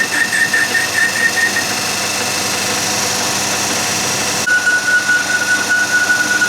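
A lathe or machine tool runs steadily on power feed, boring a part for a repair on a broken loader steering shaft, with a continuous mechanical hum and a thin high whine that shifts pitch midway.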